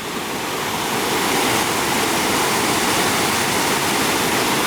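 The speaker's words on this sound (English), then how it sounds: "This is what the Ugly River looks like." Ugly River in St Mary, Jamaica, rushing steadily in a loud, unbroken wash of water noise, close and continuous with no voices.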